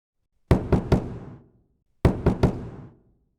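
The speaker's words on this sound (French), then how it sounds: "Vous frappiez si fort que la porte allait se casser" Two bursts of heavy knocking on a wooden door, each three hard, closely spaced blows with a short ring-off, loud and near, separated by about a second of quiet.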